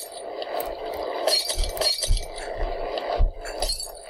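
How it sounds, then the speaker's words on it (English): Glass shattering in the video game Happy Wheels, a cluster of bright clinking and crashing breaks repeating irregularly across the clip, fairly loud with no talk over it. "I'm gonna crush that glass."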